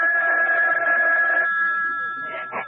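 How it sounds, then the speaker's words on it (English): A telephone rings in a radio mystery drama, a steady electric bell tone sounding close and loud for over a second, then fading as muffled voices begin. "Oh, that's the phone, Parker."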